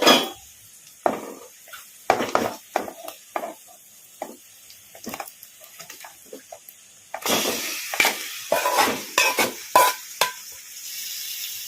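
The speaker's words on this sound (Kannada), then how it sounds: "ಈಗ ಒಂದು ಸ್ವಲ್ಪ ಹೊತ್ತು ಹೈ ಫ್ಲೇಮಲ್ಲಿ ಇಟ್ಕೊಂಡು ಚಿಕನನ್ನು ಈ ಥರ ಕಲಿಸ್ಕೊಂಡ್ಬಿಡೋಣ." Marinated chicken stirred and fried over high flame in a pan, with repeated sharp scrapes and clinks of a utensil against the metal over a steady sizzle that grows louder in the second half; no talking.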